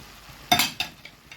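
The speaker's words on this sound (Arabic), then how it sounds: "حبة شوية طماطم كده ايه متقطعين تقطيع صغير وهنحطها وبرضك هنقلبها." Small-chopped tomatoes are stirred into peppers frying in a pan: a few quick, sharp scrapes and clinks of a utensil over a faint sizzle.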